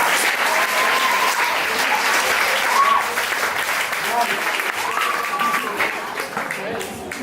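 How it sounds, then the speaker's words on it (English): A poetry-night audience applauds for about seven seconds, steady and fairly loud, with scattered voices and cheers mixed into the clapping. "We're clapping."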